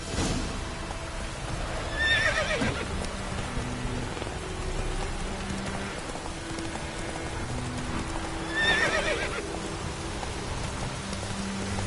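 Horses whinny twice in The Witcher 3 video game, a loud neigh near the start and another later, over steady rain and a continuous ambient bed with faint background music.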